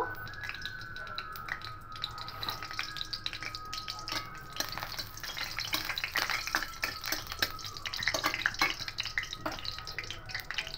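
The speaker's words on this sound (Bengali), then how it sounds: "তেলটা গরম হয়ে এসছে, এখানে গোটা 4টে শুকনো লঙ্কা ফোড়নে দেব।" Dried red chillies crackle and sizzle in hot oil in a pan, a steady fry hiss broken by frequent sharp pops and snaps throughout, close and moderately quiet with no talking.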